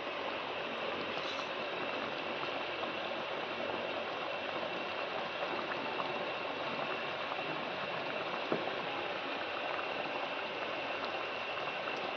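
Liquid bubbles and simmers steadily in a pot, a constant soft boiling hiss with no speech.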